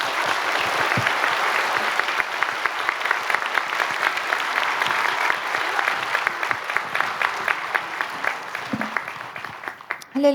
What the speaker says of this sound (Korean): 우리 뜨거운 박수로 모시겠습니다